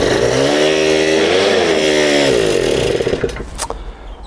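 A small Honda scooter engine running after starting, a loud, close, buzzing idle with strong steady harmonics that waver slightly before the revs drop away and it sputters near the end.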